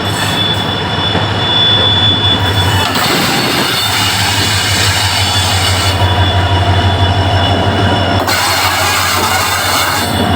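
Humsafar Express train running from Darbhanga to Delhi, heard as a loud, continuous rumble of rail cars and wheels on track with steady mechanical drone and faint squealing, no voices.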